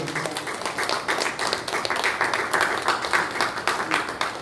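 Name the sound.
congregation clapping in church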